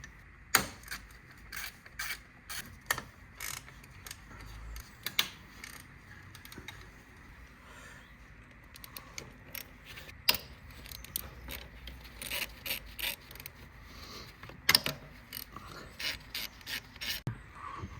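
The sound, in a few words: screwdriver undoing a clip on Mazda Skyactiv diesel EGR piping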